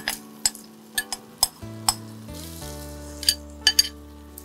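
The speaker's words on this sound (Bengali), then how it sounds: "কারণ আমি মশলাটা একটুখানি ভাজতে চাইছি" Masala for South Indian-style mutton frying in a pan, a low steady sizzle under a scatter of sharp utensil clinks and taps, with no talking.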